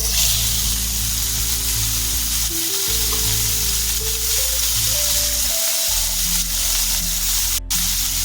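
Masala ingredients with cashews fry in hot oil for a spiced eggplant dish, a loud continuous close sizzle with a few brief dips as the pan is stirred, with no talk.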